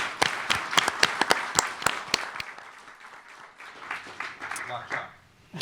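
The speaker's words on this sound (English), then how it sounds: "So let's give them a warm round of applause before we get started." A small audience at a post-election conference claps for a national panel in a short burst of sharp, fairly sparse hand claps that fades after a couple of seconds, followed by a voice speaking over faint room noise.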